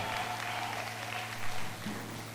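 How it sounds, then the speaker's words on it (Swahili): Church congregation applauding during a prophetic service, a steady wash of clapping over a low hum, with a faint voice briefly under it. "Kanisa pigeni makofi"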